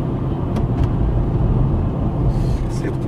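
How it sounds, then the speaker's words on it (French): Cars creep slowly through heavy urban traffic on a polluted spring morning, a steady low engine rumble filling the scene with a faint higher hiss near the end. "C'est pour ça que les voitures roulent lentement."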